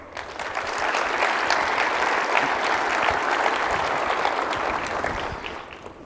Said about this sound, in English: please help me show appreciation to our teams that are involved in putting this event together with another round of applause